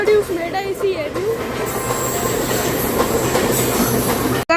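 A Medha AC EMU local train on Western Railway rolls past close by, with a steady rumble, wheel clatter and brief squeals, while a voice talks over it.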